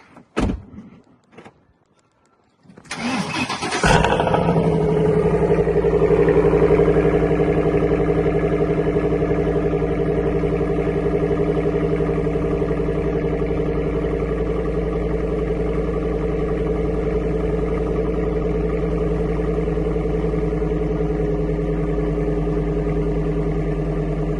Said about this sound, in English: we're gonna do a little bit of a cold start here